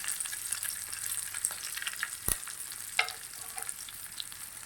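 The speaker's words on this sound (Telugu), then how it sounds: "చూడండి, ఇవి మంచిగా వేగుతున్నాయి" Semiya upma ingredients, including mint, fry steadily in a pan with a continuous close sizzle, a sharp scrape or stir at mid-point and a few soft clinks, with no talking.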